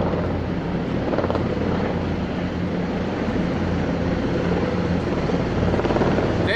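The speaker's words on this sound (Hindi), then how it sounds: "वहाँ से मैंने देखा है कि हेलीकॉप्टर गुजर रहे थे ऊपर से" Helicopters passing overhead during National Day celebrations in Jeddah, Saudi Arabia: a steady, loud rotor drone that fills the whole stretch without a break and swells slightly toward the end, with no voices heard.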